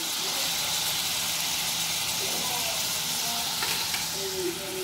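A pork chop and cooking ham sizzle loudly in a frying pan, with a dense, steady crackle of hot fat throughout and occasional stirring.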